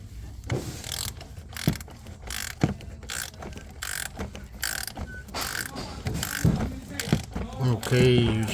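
A socket ratchet tightens the oil filter housing on a Mini Cooper S, clicking in short repeated strokes, close and fairly quiet, with some speech and clatter mixed in.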